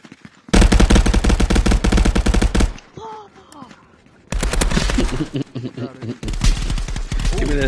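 Bursts of automatic gunfire in the VR shooter Contractors, loud rapid volleys from about half a second to nearly three seconds, then again after a short lull, with a voice talking between and over the shots.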